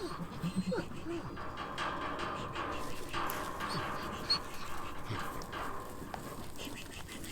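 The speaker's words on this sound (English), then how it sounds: "I got dogs everywhere" Dogs on a goat farm pant, whimper and give a few faint yaps at a distance, over quiet outdoor ambience with a bird now and then and a person's voice murmuring briefly.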